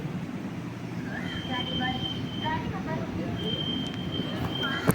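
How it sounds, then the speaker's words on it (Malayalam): A sleeper class train running near Chalakudy rumbles steadily and close, with thin metallic squealing tones drifting above it and a sharp knock at the end. "നമ്മുടെ സ്വന്തം മണിച്ചേട്ടൻ്റെ നാടായ ചാലക്കുടിയിലേക്ക് നമ്മുടെ ട്രെയിൻ പ്രവേശിച്ചിരിക്കുകയാണ്"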